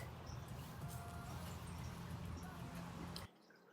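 Newly planted garden plants in a landscaped bed being watered, a steady, close wash of spraying and splashing water that runs unbroken for about three seconds before cutting off abruptly into quiet.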